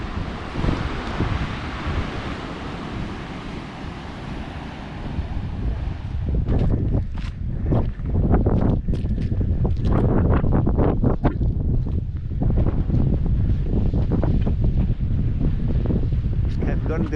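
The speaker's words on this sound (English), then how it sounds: "A couple of big swells starting to come through here." Big Southern Ocean swells break on the coastline with a heavy, continuous rumble of surf. Strong wind buffets the microphone, and voices come and go over it.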